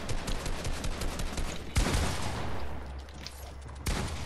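Gunfire in a shooter video game during box fights, a dense rattle of rapid shots with a sharp louder burst midway and another near the end, fairly loud and continuous.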